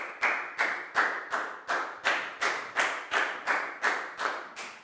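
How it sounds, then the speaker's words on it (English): A primary-school class in an English lesson claps together in a steady unison rhythm, about a dozen crisp, even bursts with no voices. "Big round of applause for Pak Bung"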